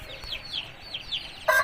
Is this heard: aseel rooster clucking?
yes